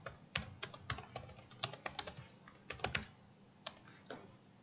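Quick, light clicks of typing on a computer keyboard, irregular bursts of keystrokes up close that thin out toward the end, with no voices.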